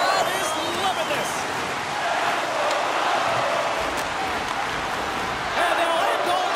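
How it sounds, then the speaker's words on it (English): Home crowd noise in the ice hockey game NHL 25 during a playoff game between the Minnesota Wild and Los Angeles Kings, a continuous dense arena roar that holds steady throughout, with a commentator talking over it. "Tremendous intensity here in the offensive end, and the home crowd is loving this."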